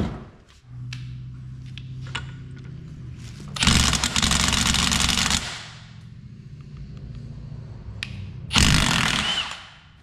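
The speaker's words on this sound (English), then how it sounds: "We have power tools for a reason." Two loud bursts of a power tool with a metric socket whirring and rattling as it removes a bolt from an NP205 transfer case, each lasting a second or two, separated by quieter mechanical humming in between.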